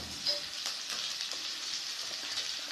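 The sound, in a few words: tomatoes added to hot oil sizzling in pan, vada curry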